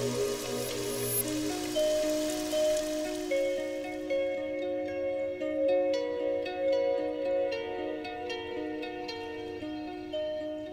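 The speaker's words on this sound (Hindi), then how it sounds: "पटना में इतने जोर से वर्षा हुई है?" Steady heavy rain in Patna pattering densely on surfaces throughout, constant and fairly loud, mixed with sustained tonal music and no voices.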